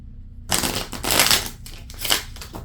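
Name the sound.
shuffling a deck of playing cards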